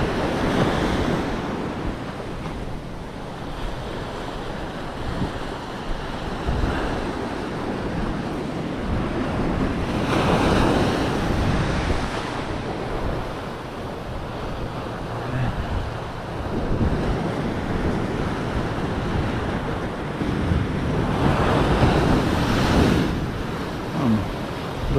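Rough ocean surf on a New Jersey beach, with waves crashing hard and continuously in broad swells, plus wind noise buffeting the microphone throughout.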